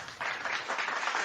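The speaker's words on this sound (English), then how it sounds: "I'm applauding you for that 35th birthday" Short burst of steady applause from a small group, clapping evenly and fairly close for just over a second.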